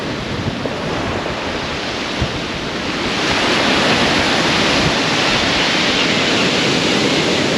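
Turbulent sea waves crash and surge beside a pier, a steady broadband roar that swells louder midway and stays dense, with wind mixed in and no voices.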